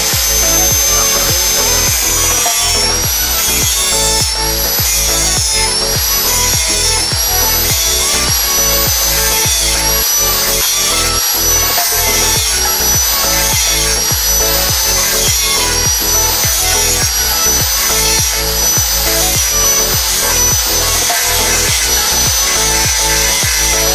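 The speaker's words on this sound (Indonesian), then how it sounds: "nanti ini bagian ininya tinggal digerinda aja pakai gerinda tangan" A handheld grinder works a motorcycle valve part during a Vario 180 cc bore-up, a continuous loud whine with a rough, pulsing grinding texture that holds steady throughout.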